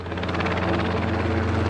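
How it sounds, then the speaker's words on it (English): A helicopter running at an airport on a windy day, heard up close as a loud, steady engine and rotor drone with a rhythmic blade chop throughout. "The helicopter, I'm pointing the microphone directly at it."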